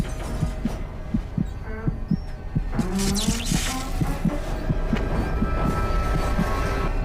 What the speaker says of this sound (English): I could hear my heartbeat.